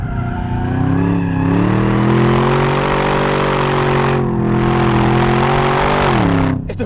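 A W557 car accelerating hard and spinning its tyres on an unprepared drag strip, running on street tyres: a loud, close, sustained engine roar that rises and shifts pitch, with a continuous screech of wheelspin and no talking.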